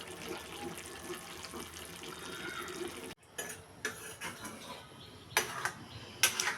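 Water is poured into a pot of pointed gourd curry with fried rohu fish, a close splashing gush for about three seconds followed by quieter drips and light clinks of the pot.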